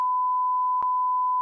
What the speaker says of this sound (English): I'm gonna put a beep over